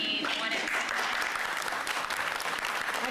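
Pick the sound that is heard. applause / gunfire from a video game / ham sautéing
applause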